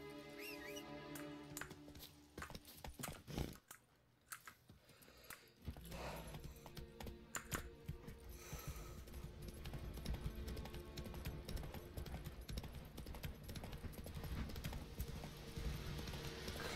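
Horse hooves clip-clop steadily in The Witcher 3 video game, a quiet, continuous rhythm under ambient game sound with no talking.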